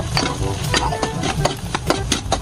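Small and then larger hotdogs frying in hot oil in a pan with garlic and onion, a close, steady sizzle broken by repeated scraping and stirring strokes, with no talk.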